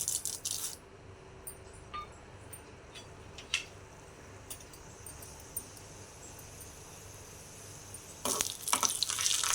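Urad dal tipped into hot oil for a ridge gourd peel chutney gives a soft, even sizzle, with scattered faint clinks and a louder, rougher burst of crackling near the end.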